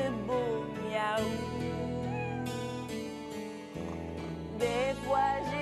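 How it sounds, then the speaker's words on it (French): A cat meows repeatedly in drawn-out, tonal cries, close and fairly loud, one call following another. "Je vais voir mon petit minou, il me fait de beaux miaou."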